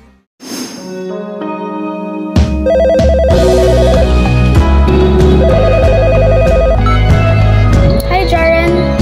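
An incoming call's telephone ringtone plays as a loud, continuous melodic tune with sustained tones and a bright repeating figure, close and steady throughout.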